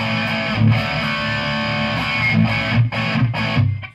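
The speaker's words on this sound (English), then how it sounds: "the tone and the actual distortion is coming purely from the Marshall head" Distorted electric guitar through a Marshall DSL 50 head at bedroom volume with a touch of reverb, sustained chords ringing steadily with a few picked accents and brief dips, alone and fairly close.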